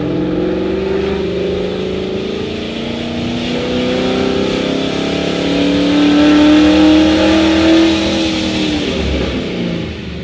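A Paxton-supercharged 5.0 car engine with a ported Boss manifold revs up to 5000 rpm in second gear, a loud continuous drone with rising, layered whine that swells and builds steadily toward the end.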